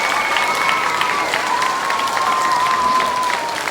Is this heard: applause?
yes